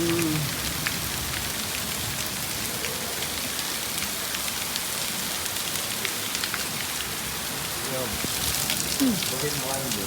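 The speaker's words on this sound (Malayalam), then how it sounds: "വീണ്ടും മഴ പെയ്ത് സുഹൃത്തുക്കളെ" Steady rain pours down, a dense continuous patter on surfaces, with brief faint voices underneath.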